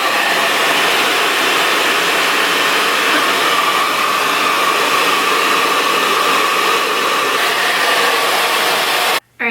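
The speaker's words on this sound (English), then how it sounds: "So let's blow dry it and see what it looks like." A hair dryer blows steadily at close range while drying freshly dyed hair. The loud, continuous whooshing roar holds for about nine seconds and then cuts off briefly near the end.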